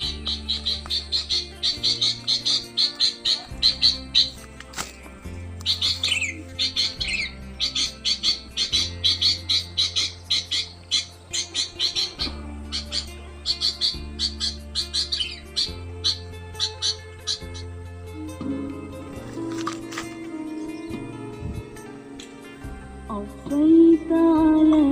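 Small birds call in quick bursts of sharp, high chirps and squawks, loud and close, in an outdoor setting where birds are being lured, with a repeating low pulsing tone running underneath throughout.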